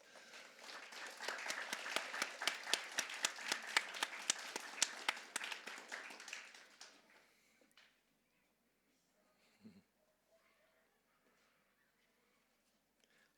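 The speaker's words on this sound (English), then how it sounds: "Give her a round of applause." Pupils at a school celebratory assembly clap for an award recipient, a burst of crisp, fairly close applause that dies away after several seconds, leaving a quiet hall with faint stray sounds.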